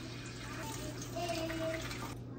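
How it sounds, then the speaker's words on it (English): Water and vinegar poured into a crab pot fitted with a steaming rack, a steady splashing, running flow heard up close and fairly soft, with no talking over it. "Then I just wanna do a 50-50 on water and vinegar."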